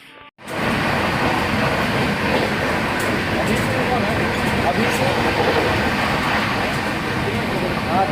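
Inside a coach of the Barbil Janshatabdi Express, a non-AC chair car, the train runs with a loud continuous rumble and faint wheel clatter, starting abruptly after a brief quiet moment.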